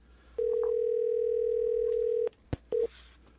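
A single long electronic ring tone on an outgoing phone call, steady for about two seconds, followed by a short click and a brief second tone, heard alone without talk.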